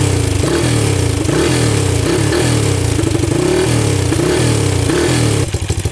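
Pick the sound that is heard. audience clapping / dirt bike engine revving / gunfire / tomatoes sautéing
dirt bike engine revving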